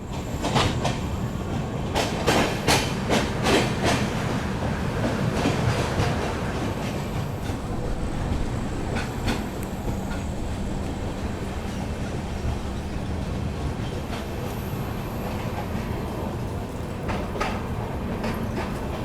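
An express train, the Poorvottar Sampark Kranti, runs through Mansi Junction without stopping: a steady, close rumble of wheels with sharp rail clicks and clatter throughout, and no voices.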